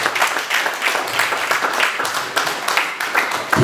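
An audience applauds at a gospel singer's press conference and album launch, acclaiming the Lord. The clapping is dense and sustained, fairly loud, and carries steadily from start to finish.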